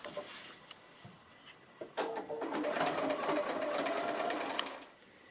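A domestic sewing machine stitches quilt block pieces with a 1/4 inch seam, starting with a few light clicks and then running in a steady close whirring burst for about three seconds before stopping.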